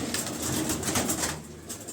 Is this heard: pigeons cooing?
yes